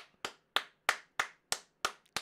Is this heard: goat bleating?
no